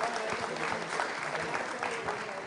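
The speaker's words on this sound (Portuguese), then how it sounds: "Uma salva de palmas para o Rafael, do escritório da Patrícia Peck" Audience applause at a web security forum talk, a steady wash of many hands clapping at moderate level throughout, with some voices mixed in.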